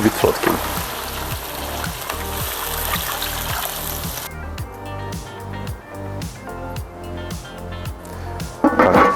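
Water pours into a cauldron over pork knuckles with carrots and onions, a steady splashing stream that stops partway through, leaving quieter sizzling and trickling with a voice talking over it.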